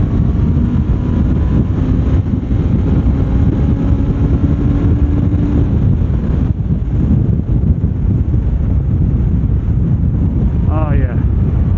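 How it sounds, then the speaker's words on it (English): Steady roar of wind buffeting a Cardo helmet intercom microphone while riding a Honda CBR 500R motorcycle on a cold highway, constant and loud throughout with a low engine drone beneath. "I want to test out the wind noise"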